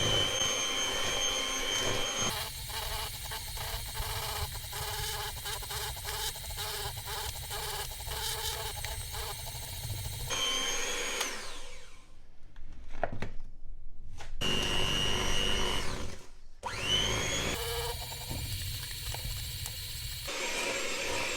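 Electric hand mixer beating homemade cake batter in a bowl, a steady loud motorized whir that runs continuously for about ten seconds, drops out briefly, then starts up again near the end.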